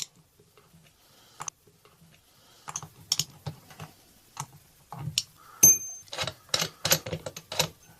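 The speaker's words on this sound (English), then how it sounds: "Take a 5/32 socket, break these studs loose." A ratchet with a 5/32 socket works loose the intake studs on a Briggs & Stratton engine, giving quiet, close bursts of rapid ticking clicks after a mostly silent start.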